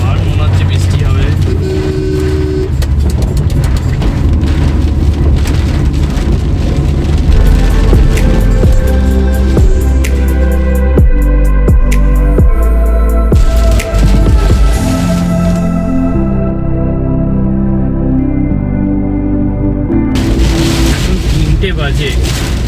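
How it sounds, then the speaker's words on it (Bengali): Heavy rain drums on a car during a night drive from Kolkata to Siliguri, a loud, dense, constant roar with road and engine rumble beneath and a voice talking over it. "এবার সামনে দেখুন পুরো ঝমঝমিয়ে বৃষ্টি হচ্ছে।"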